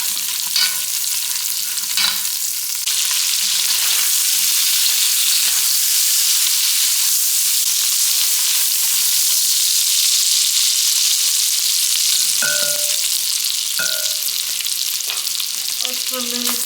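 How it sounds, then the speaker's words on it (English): Smoked sausage frying in a pot, a loud steady sizzle and crackle running throughout, with a few brief clinks of a utensil stirring near the end. "Next, I'm going to go in with some smoked sausage, and we're going to let that fry as well."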